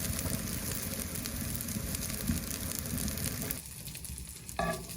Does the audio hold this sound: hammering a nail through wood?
no